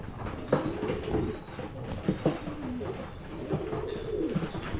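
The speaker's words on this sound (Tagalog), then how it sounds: "Territorial kasi talaga mga ibon eh." Pigeons coo repeatedly nearby, soft throaty calls overlapping in an uneven rhythm over faint background noise.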